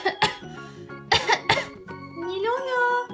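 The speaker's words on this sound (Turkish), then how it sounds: "Bu öksürük ve hapşırma sesi senden mi geliyor?" A cartoon character coughs in harsh, repeated bursts and clears the throat, then a voice rises in a drawn-out tone, close and clear.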